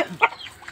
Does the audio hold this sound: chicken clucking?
yes